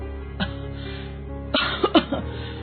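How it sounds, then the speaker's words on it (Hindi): A woman coughs several times in close succession: one short cough, then a cluster of harsh, throaty bursts near the end over a steady low background hum. Heard close and fairly loud, with no talking. "उसकी माँ लगातार खांसे जा रही है"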